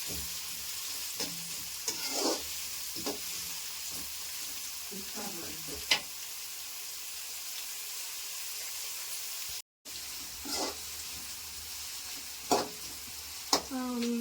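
Food frying in a pan until browned for egg rice, a steady soft sizzle running throughout with occasional stirring scrapes and clinks, one brief dropout midway.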